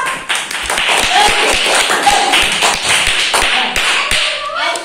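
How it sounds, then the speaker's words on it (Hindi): Children in a class clap their hands in a steady run of sharp, close claps filling the room, with voices talking over them. "ताली बजाओ"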